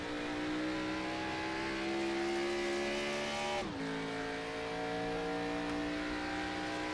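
The engine of Cody Welch's number 85 race car on a qualifying lap at Darlington Raceway in a racing game drones from a hood-mounted view, with a steady high-revving tone that dips sharply through a brief gear change and then climbs again.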